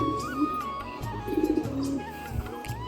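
Madras breed pigeons coo in low rolling bursts up close, with a rising, throbbing call in the middle and softer coos around it, alone without talk.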